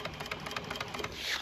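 Sewing machine stitching marine boat seat upholstery, a brief, quiet, rapid mechanical chatter running steadily without talk.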